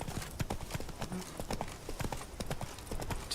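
Horse hooves clip-clop at a steady trot in The Witcher 3: Blood and Wine, a fairly close, continuous rhythmic clatter of distinct hoofbeats with faint background game ambience.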